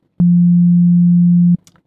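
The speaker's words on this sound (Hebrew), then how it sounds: "אז יש לנו את הסיין וייב" A pure synthesizer sine wave tone sounds alone at a low pitch, starting and stopping abruptly and holding steady and loud for about a second and a half, followed by faint brief noise.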